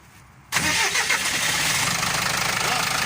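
An Iveco 75E turbo truck's diesel engine cranks and catches after a quiet moment, then settles into a loud, steady, close idle with a rhythmic throb.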